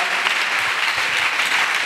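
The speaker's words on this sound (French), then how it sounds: "Acclamation." A congregation at a church service breaks into dense, continuous applause, many hands clapping together in a steady burst that fills the space.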